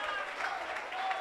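A church congregation at a Sunday service claps in a brief, steady patter of applause, heard at a moderate distance.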